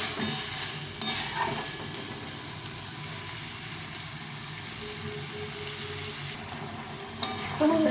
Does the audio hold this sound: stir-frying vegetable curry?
yes